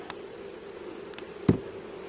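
Honey bees at the hive, a steady low drone of buzzing wings, with a few faint taps and one sharp knock near the end.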